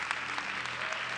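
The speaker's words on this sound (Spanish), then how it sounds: "Dale un aplauso al Señor y agradece a Él" Church congregation applauding during a sermon: steady, dense clapping from many hands spread through the room, continuous and even throughout with no pauses.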